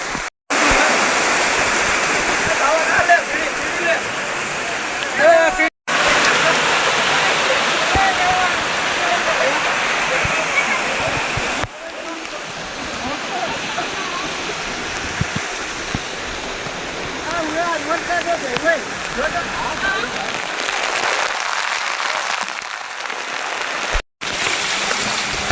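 Continuous roar of rainwater rushing down the slopes of Mount Girnar, loud and steady throughout, with people talking over it.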